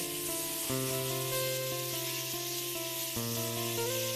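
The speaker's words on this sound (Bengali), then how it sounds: "এদিকে আমি পটলগুলো চাপিয়ে দিয়েছি ভাজা" Pointed gourd slices frying in a pan, with a steady, close hiss of sizzling oil running throughout and no talking.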